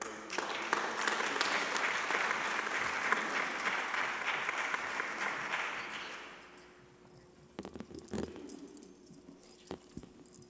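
Audience applause at a school board meeting honoring the district's 2019 Governor's Scholars; steady dense clapping fills the room for about six seconds, then fades to a few scattered claps and small noises.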